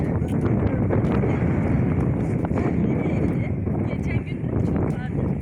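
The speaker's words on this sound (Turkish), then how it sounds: "Ona rağmen rüzgar var." Wind buffets an outdoor microphone on a snowy walk, a constant low rumble with gusty texture that runs throughout, while a person talks close by.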